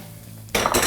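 Vegetables dropped into a hot oiled pan, a sudden loud burst of sizzle and clatter after a quiet moment, hissing on steadily to the end.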